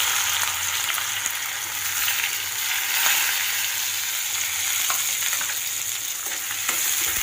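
Onion fries in oil after mustard seeds, cumin and curry leaves, giving a continuous close sizzle with occasional stirring scrapes and no voices.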